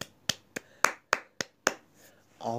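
Game applause after a completed mission in Modern Warplanes: seven sharp claps spaced about a third of a second apart, crisp and close, then a brief voice.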